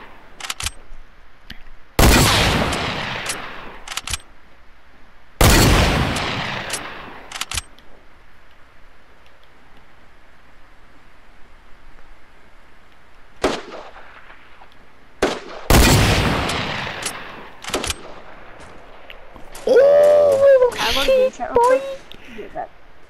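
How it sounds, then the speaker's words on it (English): Gunfire in Fortnite comes as several sharp, loud shots in separate bursts with quiet gaps between them, and a player talks over the game. "Wait, who's shooting at you?"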